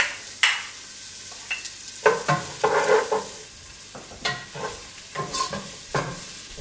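Onions and pepper sweating in a pot, with a soft bed of sizzle under a run of irregular scraping, clattering stirs that come in quick bursts, close by and with no one speaking.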